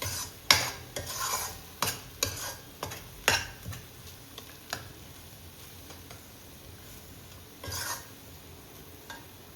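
A spoon scrapes and clacks in a pan of masala for avarekai kurma, a burst of quick stirring strokes followed by a gentle sizzle and a few later scrapes.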